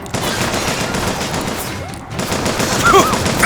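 Dense, sustained gunfire from the video game Bioshock Infinite, with rapid overlapping shots forming a loud, continuous barrage for the whole stretch.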